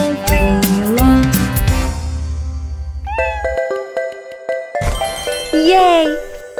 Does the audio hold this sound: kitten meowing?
yes